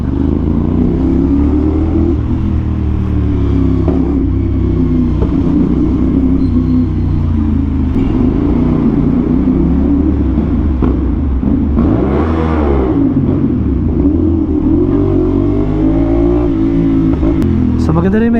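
A Kawasaki Z500 SE or CFMOTO 450NK beginner big bike rumbles through city traffic, its exhaust note loud and continuous with rising and falling revs, while a rider talks over it.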